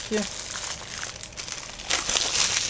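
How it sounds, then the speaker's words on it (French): Plastic shrink-wrap film being peeled off a Sing 2 4K Ultra HD Blu-ray case, a close, steady crinkling and crackling that grows louder toward the end. "On va enlever la pellicule de plastique."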